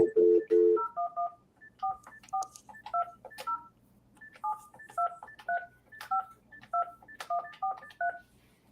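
An international phone number is tapped out as a rapid series of electronic keypad tones, grouped in short bursts with brief pauses, loud and close.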